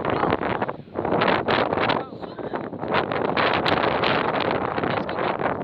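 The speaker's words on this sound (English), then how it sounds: "It's so windy." Strong wind buffets the microphone outdoors near a bridge, a loud continuous rumbling roar with gusty swells that briefly dip, while children talk over it.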